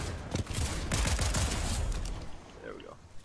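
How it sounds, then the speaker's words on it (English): Rapid bursts of gunfire from a Fortnite match, loud and dense for about two seconds, then fading into quieter game sounds. "Wait, you got people shooting at you?"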